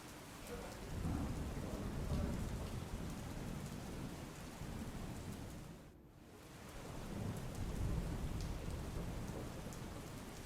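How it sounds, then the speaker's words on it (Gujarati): Heavy rain pours steadily over a flooded neighbourhood of Rajkot, a dense continuous roar with a brief dip midway before swelling again, loud and close, with no voices. "છેલ્લા 2 દિવસથી આ વિસ્તારમાં ભારે વરસાદ વરસી રહ્યો છે"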